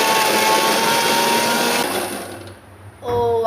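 A kitchen blender grinds biscuits into fine powder, a loud continuous whirring motor that drops away near the end and then starts up again briefly, with no speech over it.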